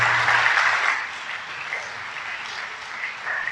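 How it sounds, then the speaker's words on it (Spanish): Congregation applause inside a church during a sermon, moderate clapping that eases slightly midway and then continues, with no talk over it. "Yo quiero que le regálense a ustedes mismos un aplauso."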